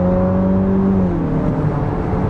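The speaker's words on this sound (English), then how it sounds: "has a nice little sound to this 4-cylinder" A 2025 Nissan Murano's turbocharged four-cylinder engine pulls under acceleration, a loud steady drone from inside the cabin whose tone rises and then drops as the transmission shifts.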